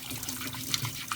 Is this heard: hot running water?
yes